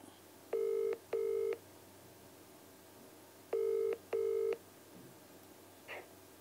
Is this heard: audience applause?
no